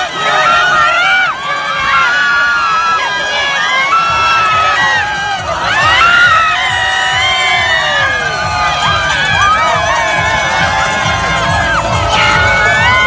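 Fans cheer and shout loudly for Russian women skiers at an Olympic sprint race, a dense crowd roar with whoops and high yells swelling in waves, under a voice talking over it.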